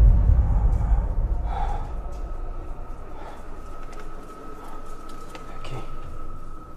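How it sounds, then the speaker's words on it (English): Breathing-like gasps and sighs come through a radio channel, faint and irregular over a constant electronic hum and static hiss, with no clear speech. "they hear someone breathing"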